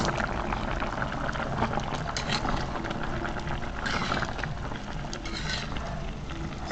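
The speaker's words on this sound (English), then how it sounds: "we're going to add some ketchup and let it simmer down" Brown stew cow liver with ketchup simmering in a pot gives a steady close bubbling and sizzling hiss that runs evenly throughout with no talk.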